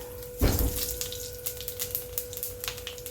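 Nigella seeds (kalo jeere) hit hot oil with a sudden loud hiss, then a close, steady crackle of scattered pops. They are being fried as the base for a fish-head and ash gourd ghonto.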